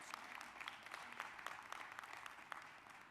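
A convention audience at an NAACP gathering claps in a soft, distant ripple, individual claps popping out of a thin, continuous patter that stays faint throughout.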